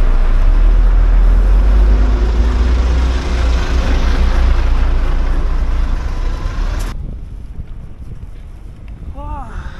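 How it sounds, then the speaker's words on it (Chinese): Heavy trucks rumble past on a dusty road near a highway entrance, a loud, continuous low roar mixed with wind buffeting that drops away sharply near the end, leaving a quieter background. "货车真多。"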